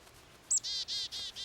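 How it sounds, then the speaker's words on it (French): A small bird eating from a child's hand gives a quick sharp chirp and then a run of four evenly spaced trilled tweets, close and clear over quiet background. "Grand-maman, l'oiseau, il mange dans ma main, regarde."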